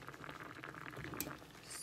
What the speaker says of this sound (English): I have the hot dogs boiled